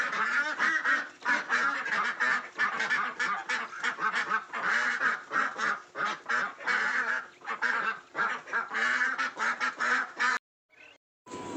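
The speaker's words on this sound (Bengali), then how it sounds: "আপনার চীনা হাঁস এবং বেজিং হাঁস, যাকে বেলজিয়াম বলা হয়, সেই হাঁসটা আমি পানিতে রেখেছি" Pekin and Chinese ducks on a farm quack steadily for about ten seconds in loud, dense overlapping bursts, then the calls break off into near silence.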